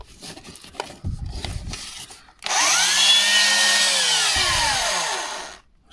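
A 24-volt cordless SDS drill runs up loud and close for about three seconds with a steady motor whine that slowly winds down, after a few quieter workshop knocks and rustles.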